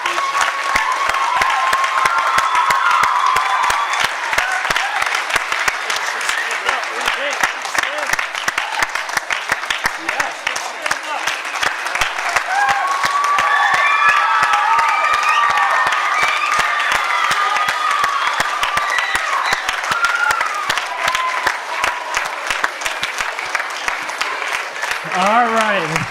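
A school awards assembly audience applauds and cheers steadily for a departing teacher, dense clapping sustained throughout with shouts and whoops rising over it.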